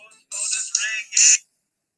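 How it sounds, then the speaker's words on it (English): A telephone rings in a few electronic chirping bursts, loud and close, then cuts off into silence. "I'm not answering the phone right now."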